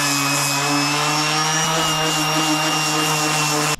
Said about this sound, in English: The nice thing about the palm sander is it doesn't have enough juice to go through the steel.